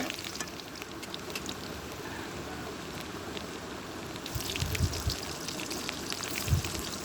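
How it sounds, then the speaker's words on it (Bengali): Crushed garlic sizzles in hot oil, a steady soft crackle like light rain, with a couple of louder spits and pops near the end. "রসুনটাকে ভালো করে ভেজে নেব"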